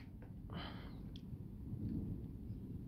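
Thunder rumbles low and steady through a violent summer thunderstorm, a continuous heavy roll with brief crackling accents, distant and enveloping with no voices.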